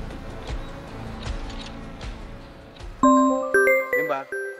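A mobile phone ringing with a call from home, a bright melodic ringtone that starts suddenly and repeats in short loud bursts after a stretch of quiet background noise.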